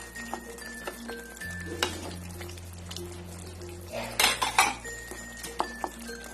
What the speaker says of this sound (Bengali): এখন আমি ভেজে রাখা মাছগুলোকে ছেড়ে দেব। আর চিড়ে রাখা কাঁচা লঙ্কাগুলো দিয়ে দেব।